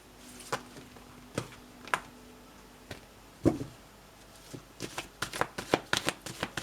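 A small personal tarot deck is shuffled nearby, giving scattered soft card taps and slaps that quicken into a denser flurry toward the end.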